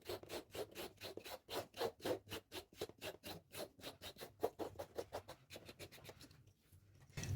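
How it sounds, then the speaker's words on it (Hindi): Carrot being peeled with the rasp file of an opened nail clipper: a close, steady run of short scraping strokes in quick rhythm, each a brief rough rasp, easing off near the end. "और अब आप इससे गाजर छिलिए।"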